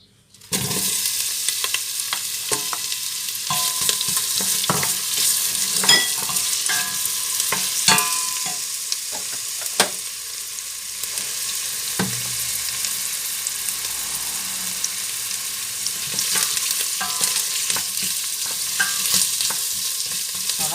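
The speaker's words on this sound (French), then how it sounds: "on va faire revenir les oignons" Onions sautéing in olive oil for a pea soup, a steady close sizzle across the whole stretch with frequent sharp scrapes and clicks of stirring in the pan and no voices.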